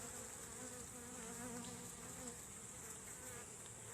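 Steady, dense buzzing of many honeybees close by in a hive, a continuous droning hum with no voices.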